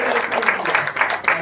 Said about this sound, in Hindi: पहले तो आज के दिन में सारे चैंपियंस होने के लिए एक बार जोरदार तालियां दीजिए।